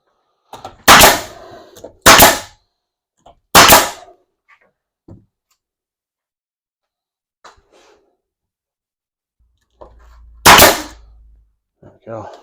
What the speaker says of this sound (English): Nail gun wasn't shooting anything.